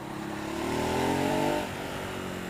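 A 2017 Ducati Hypermotard 939 engine pulls on throttle, close and steady, its pitch climbing for about a second and a half before easing back to a lower drone.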